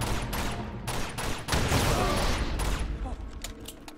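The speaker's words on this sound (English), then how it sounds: "So apparently the gun sounds different." Rapid bursts of gunfire in Uncharted 2: Among Thieves, a video game, crack out in a dense volley of several shots, loud and close over a busy game soundscape.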